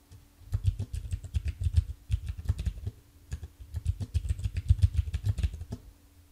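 Fingers type a password on a computer keyboard in two quick, close bursts of rapid key clicks, separated by a short pause, with no one speaking.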